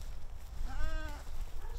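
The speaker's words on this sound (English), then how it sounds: "this black and white goat, this is Jane Doe." A black and white goat at a farm animal sanctuary gives a single short, wavering bleat at moderate distance over low background rumble.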